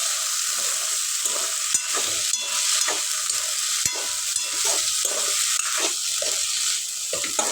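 Browned onion and cowpeas frying and being stirred in a pan over steady heat, a constant bright sizzle broken by regular scraping strokes of the spoon, close up.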